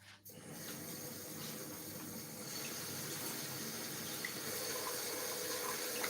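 Fresh basil rinsed under a steady stream of running tap water into a sink, a continuous close splashing hiss with no talk.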